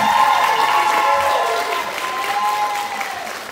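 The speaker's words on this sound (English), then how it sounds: "Can we give them another round of applause?" Audience at a school band concert applauds the band: loud, full clapping from a large crowd with a little cheering mixed in, holding steady and tapering slightly toward the end.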